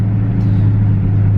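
BMW F10 M5 driving, heard from inside the car as a loud, steady low engine drone and road rumble, unchanging over the short span with no voices.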